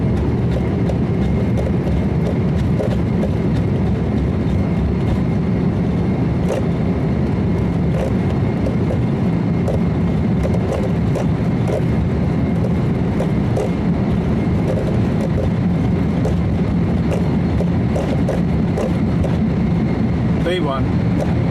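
Airliner jet engines at takeoff thrust during the runway roll on an Antarctica sightseeing flight, a steady loud roar heard from inside the cabin with rumbling vibration throughout, while crew voices call out over it.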